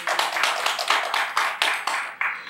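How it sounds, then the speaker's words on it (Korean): A church congregation bursts into brisk applause, many hands clapping in a dense, uneven rhythm with pulsing waves, fairly close and continuing throughout with no talking. "그 하나님께 영광의 박수 올려드립니다."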